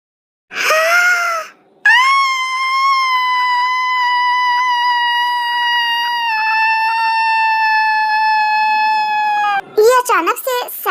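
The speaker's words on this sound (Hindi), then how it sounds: "अचानक से सायरन कहाँ बजने लगा?" A sudden siren holds a loud, piercing, steady tone for about eight seconds, with a short sharp cry just before it and brief voices breaking in right after.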